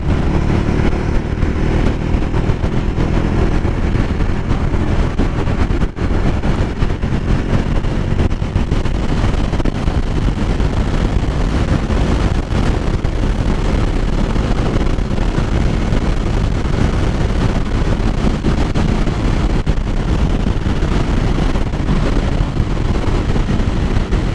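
A Bajaj Dominar 400 motorcycle riding and accelerating uphill, a loud continuous engine drone heavily buffeted by wind rushing past the microphone, with no talking.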